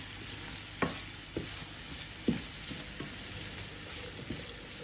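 Courgette frying with bacon in a pan, a soft continuous sizzle broken by a few distinct scraping stirs spaced about a second apart.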